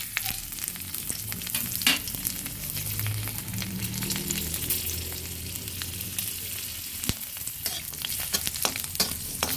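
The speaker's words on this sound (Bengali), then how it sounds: "ভেজে এবার তুলে নেব" Green chilies fry in a pan for a Bengali bottle gourd leaf bharta, giving a steady close sizzle with scattered crackles and light stirring scrapes throughout, with a soft tonal hum underneath and no talk.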